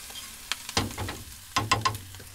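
Breakfast frying in a pan in a boat galley, stirred by hand: a low sizzle under a few sharp scraping and clattering stirs, with two clusters of strokes close by and quiet between them.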